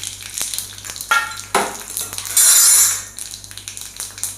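Mustard and fenugreek seeds, with dried red chillies, frying in hot oil for a Kerala pulinkari tempering: loud bursts of sizzling and crackling surge in several waves, punctuated by clinks of a utensil against the pan.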